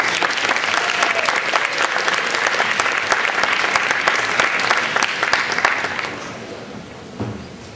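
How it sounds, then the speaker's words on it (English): An audience claps for students performing a taekwondo dance: dense, loud applause with sharp individual claps that holds steady for about six seconds, then thins out and fades, with a few stray claps at the end. "give them another round of applause"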